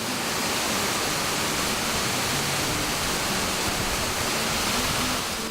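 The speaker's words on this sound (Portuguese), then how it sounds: "Na válvula de abertura, o açude que barra o rio Brumado, afluente do Rio de Contas, faz a água se dispersar com uma força feroz." Water blasts from the opening valve of a dam on the Brumado River, a tributary of the Rio de Contas, making a loud, constant roar with no pauses.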